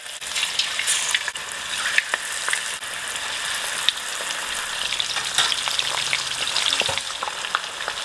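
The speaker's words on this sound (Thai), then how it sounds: "กุ้งก็ทอดด้วยไฟแรงนะครับทอดไม่นาน" Shrimp deep-fry in plenty of hot oil over high heat, giving a dense, steady crackling sizzle with sharp pops scattered through it, close up and continuous, with no voices.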